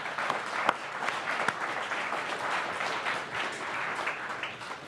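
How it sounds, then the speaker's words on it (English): A live comedy show audience in Las Vegas breaks into sustained applause, dense clapping that holds steady for several seconds with a couple of sharper claps standing out, no talking over it. "Give them a round of applause, everybody."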